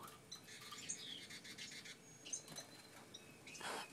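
Several young fledgling birds outdoors give faint scattered chirps and squawks against quiet background noise.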